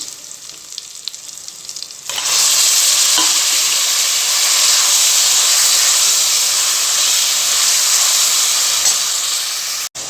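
Half a kilo of mutton dropped into hot oil for curry, a quiet start, then a sudden loud steady sizzle and hiss that holds close and strong to the end.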